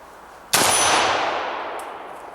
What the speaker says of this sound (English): I just busted the chain.